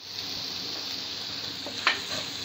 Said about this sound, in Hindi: अब हम पनीर को गोल्डन ब्राउन होने तक फ्राई करके लेंगे।